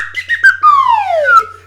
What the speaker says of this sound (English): I will be greatly and assisted by my holy slide whistle.